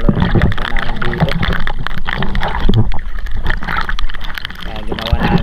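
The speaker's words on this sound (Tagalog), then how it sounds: "Ayan o, sobrang maalon, tumatalon-talon yung bangka namin dito." A small boat pitches on rough, choppy seas in strong wind and rain. Water sloshes and gusts roar loudly throughout as someone talks over the noise.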